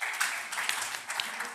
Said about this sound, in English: Would you give me a clap if you agree?